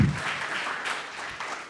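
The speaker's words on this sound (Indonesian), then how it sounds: "Yang mau berikan tepuk tangan meriah buat Tuhan kita." A congregation claps during an Indonesian church worship service, a dense burst of applause right away that stays steady and fairly loud for nearly two seconds before thinning slightly.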